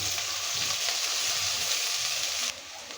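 Cumin and onion paste with green chili sizzles in a hot pan, a steady broadband hiss with light stirring, loud and close, dropping in level near the end.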